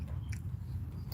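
Crunchy charred skin on hot-and-fast smoked chicken being bitten and chewed up close, a steady crisp crunching through the whole moment with no talking.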